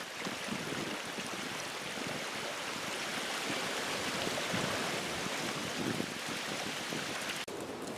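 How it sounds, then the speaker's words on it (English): Water in a woodland stream at a deer camp makes a steady, fairly faint rushing and burbling that continues evenly throughout with no voices. "we got some water moving out of here now"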